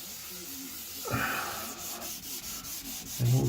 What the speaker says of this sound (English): A bit more scrubbing maybe.